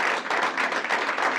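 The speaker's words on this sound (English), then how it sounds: "everyone who volunteered, give yourself a round of applause" Attendees at a stakeholder meeting applaud in a brief, steady burst of clapping from a moderate-sized group in a room.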